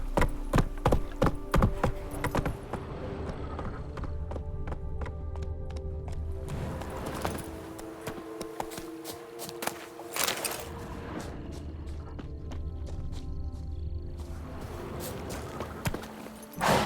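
Roach the horse gallops in The Witcher 3, steady rapid hoofbeats pounding throughout with a few louder thuds, while a voice speaks now and then.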